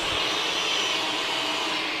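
A Eureka Floor Rover Pet vacuum cleaner fitted with a dusting brush runs with a loud, steady motor whine and airy rush, heard close and unbroken throughout.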